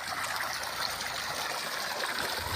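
Irrigation water flows steadily through an okra field, a continuous close-up stream-like rush and trickle with no talking.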